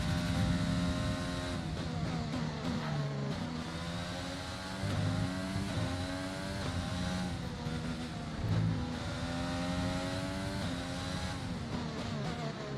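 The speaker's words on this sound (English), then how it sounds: "we switched to a Mercedes engine, but our engine still sounds like a Honda due to a game bug" A Formula-style racing car with a Mercedes engine that sounds like a Honda unit because of a game bug, in a career-mode race at Australia. It revs steadily and shifts through repeated rising gear sweeps, an unbroken engine drone throughout.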